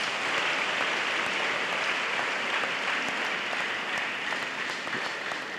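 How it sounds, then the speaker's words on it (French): A church congregation claps together for Jesus in a dense, continuous wash of applause that holds steady from start to finish, with no voices standing out. "Let's clap for Jesus."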